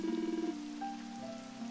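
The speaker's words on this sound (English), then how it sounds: "It's raining." Rain falling in the role-playing video game Dragon Quest XI S, a steady, even hiss of rainfall under a low sustained tonal hum and brief melodic notes, with no talking.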